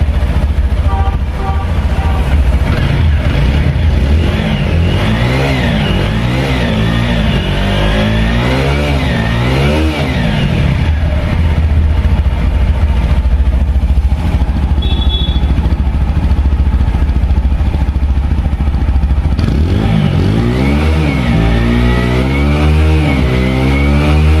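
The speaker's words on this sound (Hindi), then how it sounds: "आइए अब मैं आपको इस बाइक के इंजन का साउंड सुनाता हूं और आप इसके एग्जॉस्ट नोट को भी सुनिए" A motorcycle engine revs repeatedly, rising and falling in pitch through bursts of throttle, with a loud, rumbling exhaust note up close throughout, from a TVS Apache 160 4V or Bajaj Pulsar N160.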